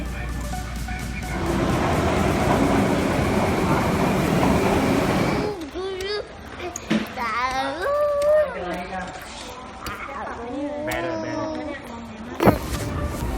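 Train ride in Osaka: a loud, steady rumble of the carriage fills the first few seconds, then fades to a quieter background while people talk over it.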